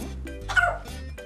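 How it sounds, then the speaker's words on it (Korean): A dog gives a short, anxious bark and yip close by, one brief burst, in a home where it lives alongside a cat. "이렇게 짖는 것도 불안감이라고 했잖아요."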